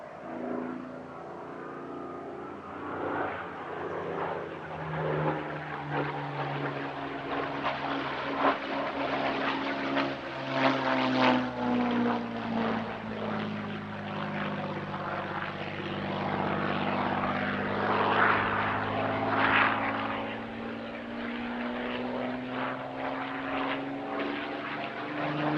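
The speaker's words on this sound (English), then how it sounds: "First up, the Suffolk Spitfire, a US Army Air Force marked Spitfire 16E owned and flown by George Hay." Supermarine Spitfire Mk 16E propeller fighter in US Army Air Force markings, flying at an airshow: a steady, sustained piston-engine drone that swells and fades slightly as it passes, with shifting harmonic tones and no talk.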